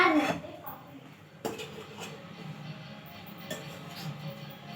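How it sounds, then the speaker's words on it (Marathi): Dough for coconut vadi is stirred in a pan so it doesn't stick, a metal spoon scraping and clinking against the pan in a few sharp knocks over a soft background, with brief talk. "तर आता याला हलवत राहायचं जेणेकरून खाली लागणार नाही"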